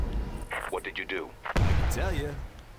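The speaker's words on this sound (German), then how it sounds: "Und eine Granate rein." A grenade explodes in the video game Far Cry as a single heavy boom midway, with a rumbling tail. Voices talk before and after the blast.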